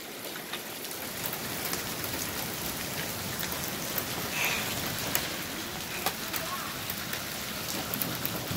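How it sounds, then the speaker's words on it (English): Quarter-sized hailstones pelt down in a severe nighttime hailstorm, a dense, continuous clatter of hard impacts with a few sharper nearby hits standing out. "This is the worst hailstorm ever."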